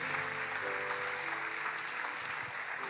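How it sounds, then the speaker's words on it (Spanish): Steady, full applause from a church congregation during a sermon, a continuous wash of clapping with a faint tonal hum beneath it. "Demos un aplauso fuerte a Jesús."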